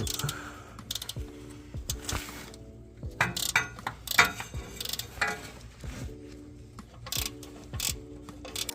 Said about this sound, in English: we're just going to lock the back side of this cable and see if that's going to ratchet the right direction